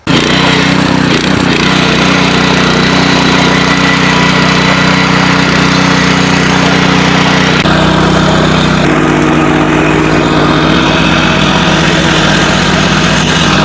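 A Bull 8709 power weeder with an 8 HP turbo engine runs steadily in a field, its loud, continuous engine drone holding close and constant, with a slight shift in tone partway through and no talk.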